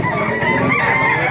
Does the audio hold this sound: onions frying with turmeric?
no